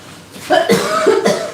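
A short burst of several harsh coughs in quick succession, close and fairly loud.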